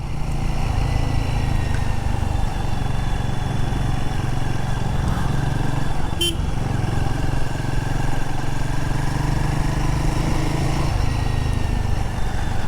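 A Royal Enfield Guerrilla 450 single-cylinder motorcycle pulls steadily in second gear, its engine droning with a constant buzzing tone and slowly shifting pitch, heard close up with continuous wind rush and no speech.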